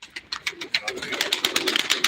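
Pigeons coo and flutter close by in a rapid run of soft, pulsing calls lasting about two seconds, with a bit of human voice in the background.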